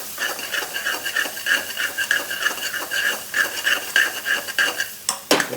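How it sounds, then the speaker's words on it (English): A spoon stirs keema curry mixture in a cooking pan, making repeated soft scraping strokes in a steady rhythm, close and moderately loud, with a sharper clatter near the end. "be very careful and keep on mixing it"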